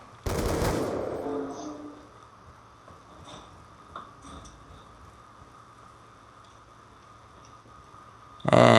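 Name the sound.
rifle gunfire in a video game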